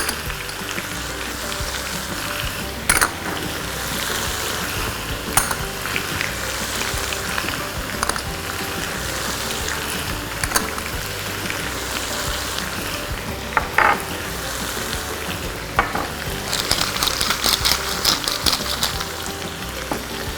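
Chicken with onion, garlic, green chilies and spices fries in a pot for Emirati chicken machboos, a steady close sizzle and hiss with occasional sharp knocks and scrapes of stirring, and no voices.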